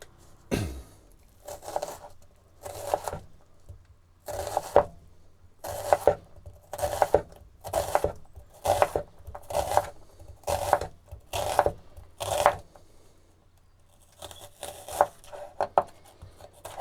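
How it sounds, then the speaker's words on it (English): A knife chops finely through onions on a board in quick bursts of rapid, even strokes, each run of chops separated by short pauses, close and crisp with no talking. "Finely chopped onions."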